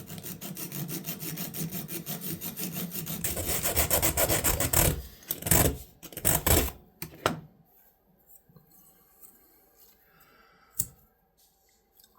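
A file rasps back and forth on the pins of a Colonial Sheepsfoot Barlow pocket knife, with rhythmic scraping strokes for about five seconds, then a few scattered clicks and handling sounds.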